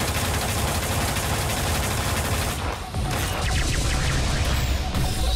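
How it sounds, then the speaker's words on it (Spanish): A Mickey bullet attack in the video game Digimon Hacker's Memory rattles off as a dense, loud barrage of rapid gunfire-like hits with a brief dip midway before the volley picks back up. "De nuevo vamos a hacer una bala Mickey."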